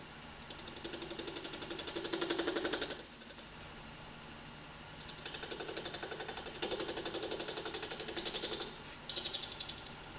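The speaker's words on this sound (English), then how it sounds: "Switch the lathe on and look for the outer edge of the first groove" Wood lathe running on an eccentric chuck while a parting tool cuts grooves: a rapid buzzing chatter in bursts of several seconds, separated by quieter stretches of motor hum, moderately close.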